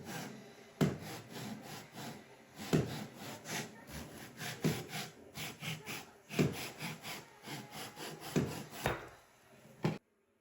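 A laminate flooring plank is cut with a hand saw in rhythmic back-and-forth strokes, close and moderately loud, with a sharp final stroke as the cut finishes and then silence.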